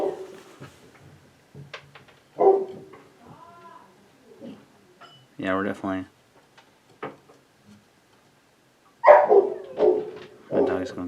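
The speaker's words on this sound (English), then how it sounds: "My dog's going crazy." A dog barks indoors in short bursts during knife sharpening on a Wicked Edge Go system with S35VN steel, the barks coming in separate clusters and mixed with a man's speech.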